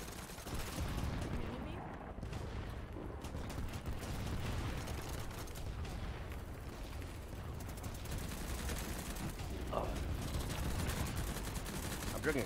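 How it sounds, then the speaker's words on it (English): Gunfire aimed at the player in a video game, with steady muffled bursts and volleys rattling throughout at moderate distance, a voice talking over them. "What is shooting me?"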